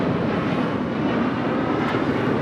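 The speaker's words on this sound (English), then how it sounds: "that is Delta Airlines Flight 7 heading to Tokyo Haneda. It's at A330-900. The NEO heading here for a Southside departure on 25 right." A Delta Airlines Airbus A330-900neo airliner roars loudly and steadily at Los Angeles International Airport, a broad continuous jet engine rush filling the short span with no talk.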